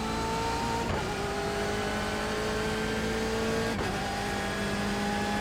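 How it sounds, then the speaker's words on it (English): Sustained engine note of a BMW race car in the iRacing sim, rising steadily in pitch as it accelerates, with two brief dips where gears shift, loud and continuous with no talk. "Slow squeeze of the throttle."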